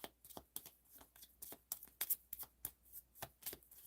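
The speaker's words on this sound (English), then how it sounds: "Now I'm feeling guided to just shuffle till something comes out." Tarot cards being shuffled by hand in a quick, irregular series of soft riffling slaps, close and quiet, with no voices.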